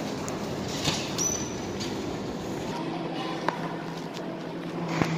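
A subway train at the American Museum of Natural History station rumbles and rattles nearby, with a brief wheel squeal and a few metallic clanks over steady rail noise, and voices faintly in the background.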